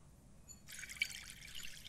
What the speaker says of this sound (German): Ich würde mal sagen, Wasserhahn funktioniert.